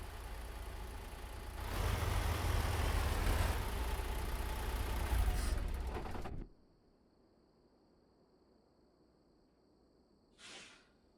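Truck engine in American Truck Simulator runs loudly with a steady idling rumble for about six seconds, then cuts out, leaving a faint hum and a brief soft click near the end.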